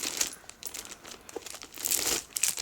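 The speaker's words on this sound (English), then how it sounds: "let's take the other plastic off" Crinkly plastic wrapping rustles and crackles as it is peeled off a Hermès Kelly dupe handbag, with bursts of crisp crinkling that swell louder near the end.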